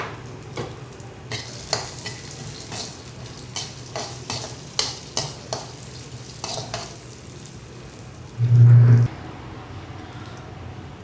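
Chironji seeds fry in hot ghee with a steady low sizzle while a spoon stirs and scrapes the pan in repeated light clicks, ending with a brief louder scrape; no talking.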